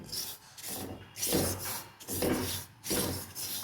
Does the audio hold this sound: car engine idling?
no